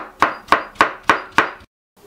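Watermelon rinds are chopped on a board in five evenly spaced, sharp knife strikes, close and clear, then a pause and the start of another cut.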